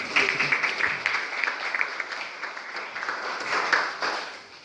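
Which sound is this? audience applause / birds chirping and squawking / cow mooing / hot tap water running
audience applause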